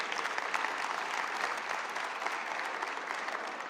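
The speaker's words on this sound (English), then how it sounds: "give him a round of applause, that's good." Steady, dense applause from an audience greeting Mayor Johnson at a Chicago anti-gun violence event, sustained and even for the full length with no voices over it.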